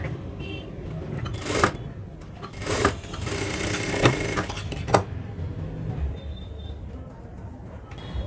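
A sewing machine stitches a high neck blouse in short bursts of mechanical whirring with pauses between them, close and moderately loud, with no talk.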